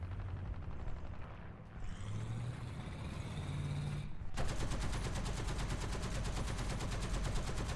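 Rapid sustained automatic fire from the American T77E1 anti-aircraft gun in War Thunder, a dense continuous roar after a brief lull, loud and close over engine rumble.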